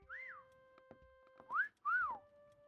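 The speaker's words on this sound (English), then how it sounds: "Give a little whistle, please." Several whistled notes in the video game Meccha Chameleon, short rising-and-falling tones repeated three times with a sustained electronic hum beneath, clear and alone without talk.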